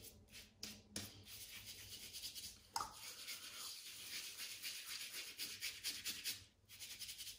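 A shaving brush works soap into a lather, a close, soft, continuous wet rubbing and swishing with brief pauses.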